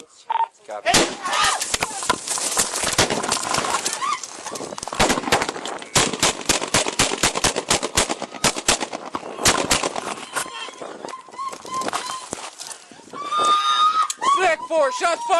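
Body camera on a police officer during a fatal shooting in Nye County, Nevada: dozens of loud, sharp gunshots in rapid bursts, close by, with voices shouting between and after the volleys.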